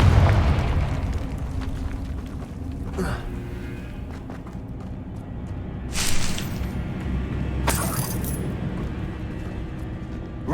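Confringo spell blasts in Hogwarts Legacy, a few loud bursting explosions rising over a low rumbling backdrop with footsteps, spaced out across the stretch, with a voice speaking at times.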